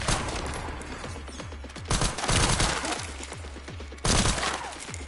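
Automatic weapon fire from a machine gun in the survival horror game Resident Evil Requiem, rapid bursts of loud close shots with sharp repeated cracks, intensifying in two heavier volleys.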